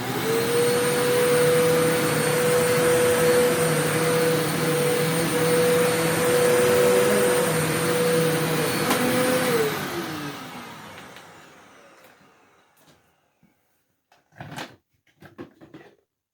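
A Eureka The Boss Capture vacuum cleaner runs at a steady loud whine during a carpet dirt test, then powers down and spins to silence, followed by a few sharp clicks and knocks.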